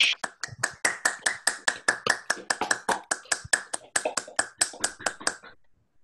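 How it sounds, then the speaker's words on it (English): Scattered clapping from a few people after an online lecture, sharp individual claps in an uneven rhythm that taper off and stop. "a round of applause"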